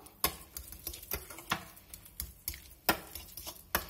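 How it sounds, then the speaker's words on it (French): Stuffed sweet potato filling being mixed with thyme, a run of light irregular taps and scrapes of a utensil against a bowl, close and fairly quiet, with no talking. "Et je vais venir mélanger le tout"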